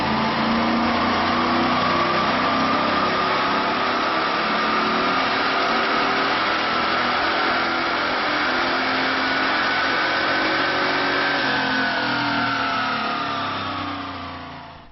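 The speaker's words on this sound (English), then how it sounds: "Let's run this car on the dyno to see what the 58mm BBK throttle body did for this LT1." A Corvette LT1 V8 fitted with a 58mm BBK throttle body runs hard on a dyno, a loud steady engine roar with a slowly rising pitch through the pull, then easing off at the end; no talking.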